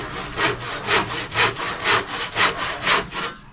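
A sharp hand saw cuts through wood in steady, even back-and-forth strokes, about seven rasping pulls, close and loud with no talking, ending as the cut finishes.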